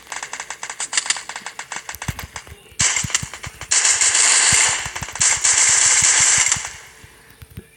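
Rapid, dense gunfire in the video game Free Fire crackles almost continuously, with bursts of automatic fire and scattered single shots, loud and close.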